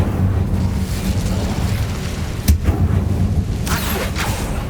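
The Incendio fire spell in the Hogwarts Legacy video game bursts with a sharp whoosh and boom over a rumbling background, followed by a second fiery flare a moment later.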